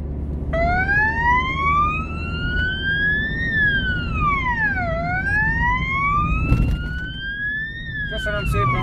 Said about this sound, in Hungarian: Látjátok előttem a kék lámpás autóra gondolok.